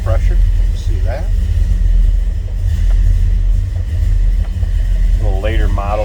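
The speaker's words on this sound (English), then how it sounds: "Nice idle in this car." A 1970 Chevrolet Chevelle idles with a deep, loud, steady rumble while a person talks over it.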